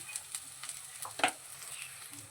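Matar dal frying in oil in a pan, a faint steady sizzle with light clinks of stirring, one sharper scrape near the middle, no talking.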